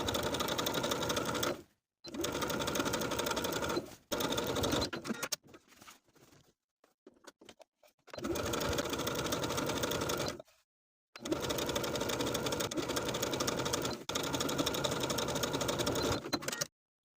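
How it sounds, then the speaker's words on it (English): Sewing machine edge stitching close to the inner fold of rolled hems on a chic top with sleeve ruffles, running in several long loud bursts separated by short pauses and quieter fabric handling. "now with the hems on either side still rolled in place, we'll edge stitch close to that inner fold all the way around"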